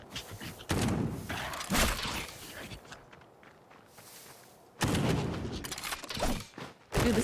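Gunfire in the gritty action RPG Death Trash comes in short bursts of dull thumping shots, two louder clusters separated by a quieter gap, close and punchy without speech.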